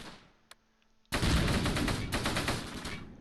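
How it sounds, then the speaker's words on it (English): Mortar fire in the World War II strategy game Close Combat Gateway to Caen comes as a sudden loud, rumbling burst of explosive noise that rolls on for about two seconds after a quiet start. "Ugh, those mortars."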